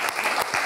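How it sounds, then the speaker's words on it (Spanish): Brief burst of audience applause at a talk, dense and steady for under a second with no voices over it. "yo creo que todos se merecen un fuerte aplauso"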